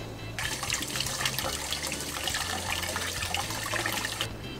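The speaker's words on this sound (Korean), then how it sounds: "그래 그거 물로 씻어." Tap water running steadily into a sink, rinsing a fruit while making peach jam, a close, even hissing splash that starts abruptly and stops just before the end.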